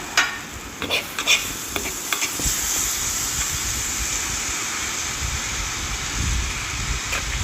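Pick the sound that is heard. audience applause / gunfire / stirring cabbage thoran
stirring cabbage thoran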